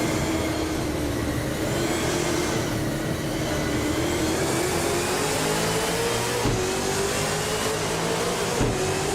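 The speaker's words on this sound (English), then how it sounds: "Looks like that Mustang is ready to burn some rubber from pole position." A 2019 Ford Mustang V8 supercar in a racing video game drones steadily at pole position, its engine note rising gradually as it revs loud and continuous, alone without talk.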